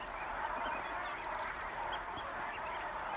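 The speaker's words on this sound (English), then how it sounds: "These are brant geese." A dense, continuous chorus of many brant geese honking and murmuring together in Tsawwassen, a steady buzzing din of overlapping calls with no speech.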